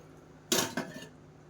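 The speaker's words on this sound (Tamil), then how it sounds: "அடுத்தது சாம்பாருக்கு வந்து இந்த பாத்திரம் வச்சுக்கலாம்." A metal cooking vessel for sambar is set down on a kitchen surface, producing a sharp clattering clank followed by a second smaller knock and a short ringing decay.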